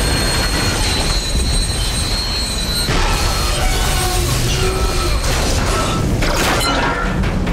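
A train in the video game Dead Space 2, loud close rumbling with grinding metal and squealing wheels, a sharp crash near the middle and screeching tones rising toward the end, with no talk.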